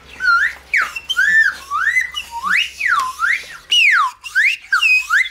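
A person whistles imitation bird calls, a run of rising and falling warbling phrases, clear and close with brief pauses between them.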